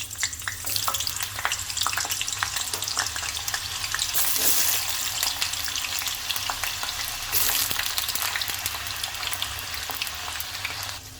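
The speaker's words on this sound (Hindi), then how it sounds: "आलू को थोड़ा डीप फ्राई करना है, तो तेल ले रही हूँ थोड़ा ज़्यादा।" Washed potatoes deep fry in plenty of hot oil for a Sindhi breakfast dish, a loud continuous bubbling sizzle up close with occasional stirring and surges of crackle.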